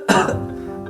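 A man fakes a cough while pretending to be sick at home, a single close, loud burst that trails into a raspy, throat-clearing rasp.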